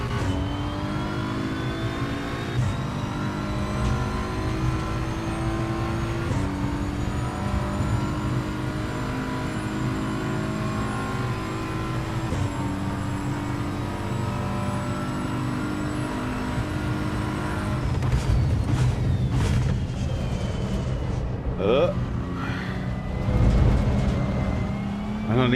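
A race car in Assetto Corsa EVO laps a track, its engine droning and rising through gears with repeated shifts, then braking and rough bursts near the end, loud and steady with occasional brief talk beneath.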